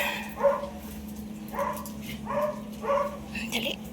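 A dog being bathed gives several short barks and yips in an even series, with a whimper at the end, close by over a low steady hum.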